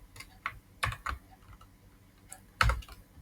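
Keys clack on a computer keyboard while Python code is typed, a few separate taps and then a tight cluster of strokes, close and fairly quiet with no talking.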